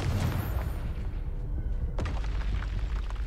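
A booming blast from the Confringo fire spell in the Hogwarts Legacy video game, a deep rumbling explosion with a sharp hit partway through, loud over continuous rumble.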